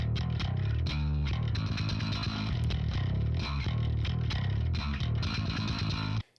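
Heavy, distorted metal bass playing a dense riff through a compressor after the distortion, compressed and even in level, continuous until it cuts off abruptly at the end.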